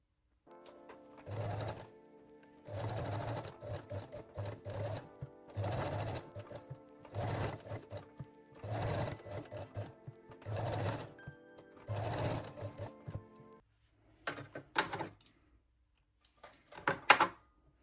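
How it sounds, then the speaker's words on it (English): A domestic sewing machine zigzag-stitches lace onto a lingerie edge in repeated bursts of close, rhythmic whirring, each run a second or two long with short pauses between, followed by a few softer, brief runs at the end. "Now set your machine to zigzag or 3-step zigzag stitch and sew the lace along the decorative lace edge."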